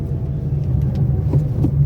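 A car driven by a learner in town streets during a gear change: a low, steady engine rumble close by, with slight swells in the hum.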